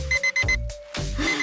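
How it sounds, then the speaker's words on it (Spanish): An alarm clock rings loudly and close by in repeated bright bursts of electronic beeping, a few quick pulses and then a longer sustained tone, with no talking over it. "¡Cállate, despertador!"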